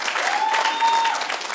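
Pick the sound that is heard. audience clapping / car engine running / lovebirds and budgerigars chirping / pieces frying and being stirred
audience clapping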